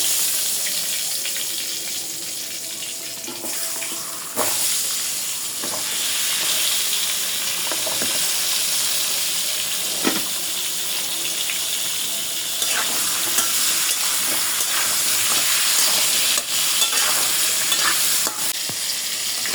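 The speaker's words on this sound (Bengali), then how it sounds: "তেল গরম হয়ে গেছে একটু হলুদ দিয়ে দিলাম পটল বাজ্যা নিব আগে" Pointed gourd pieces frying in hot oil with turmeric, a loud, even, close sizzle running throughout, broken by occasional sharp clacks of a spatula against the pan, no talking.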